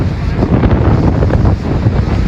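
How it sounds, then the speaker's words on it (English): Hurricane Melissa surf and wind flooding ashore at Portland, with loud, continuous roaring gusts buffeting the microphone over crashing waves, no voices. "Guys, watch the wave. It's coming."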